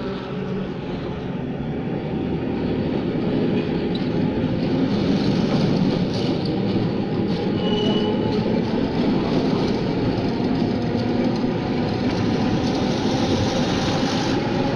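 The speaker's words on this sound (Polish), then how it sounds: "Tylko tramwaje jeżdżą po szynach." An electric city tram with a pantograph runs along rails, a steady, loud rolling rumble that holds for the whole stretch with no talking.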